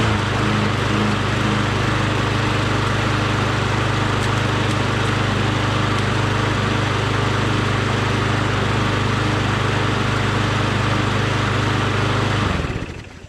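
Toro 616Z mower engine fitted with a swapped carburetor runs in a steady, loud drone with no audible surging, then cuts off at the end; no one speaks.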